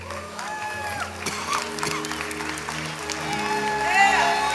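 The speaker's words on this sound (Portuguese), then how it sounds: "Aplauda o Senhor com alegria." A church congregation claps together during a service while sustained keyboard or organ tones ring underneath, the applause building slightly toward the end.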